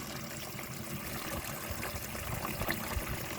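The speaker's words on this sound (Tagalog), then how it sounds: "Ayan po yung tubig niya, oh. Ang lakas po ng tubig, oh." A strong gush of water from a solar-powered pump pours in a continuous, fairly close rush and splash without pause.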